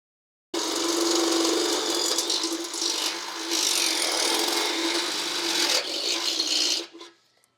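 A drill bores a 5/8-inch hole through metal while Hefty Fabworks rock sliders are fitted to a 2005–2015 Nissan Xterra, giving a steady, loud grinding whir for about six seconds, with a brief dip midway, before it spins down.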